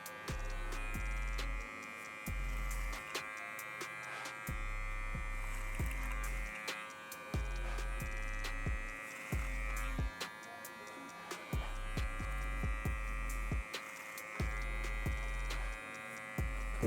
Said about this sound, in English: Go ahead and clipper over comb this bulk.